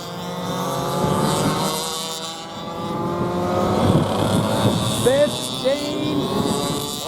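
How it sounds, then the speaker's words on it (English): Clubman heavy class race cars pull out onto a racing circuit, their engines droning and rising together at a distance while a commentator talks over them. "The clubman heavies bring it out onto the circuit."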